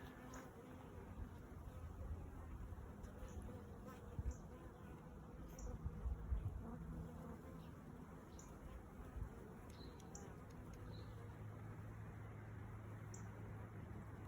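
Low, steady buzzing of many honeybee drones drones on continuously, with an occasional bee droning louder as it passes close by.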